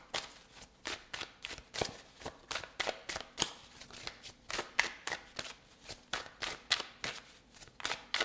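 Tarot cards are shuffled in a steady run of quick, crisp riffles and flicks that repeat about twice a second, close and fairly quiet, with no talking.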